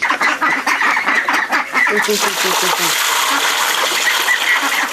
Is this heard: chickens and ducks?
yes